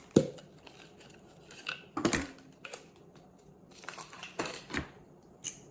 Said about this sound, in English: So to start cutting, I'm just going to use my blade.